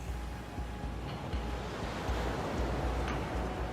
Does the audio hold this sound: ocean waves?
yes